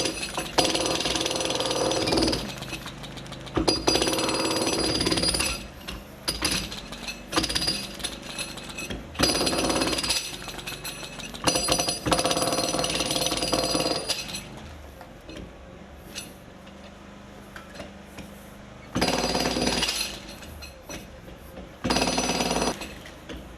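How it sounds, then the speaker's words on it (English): Hammer chipping concrete to widen a breach hole during a collapse-rescue drill, giving loud, repeated bursts of harsh impacts with short pauses between runs. "So with a few more chips from the hammer, we're going to make this hole a little bit larger."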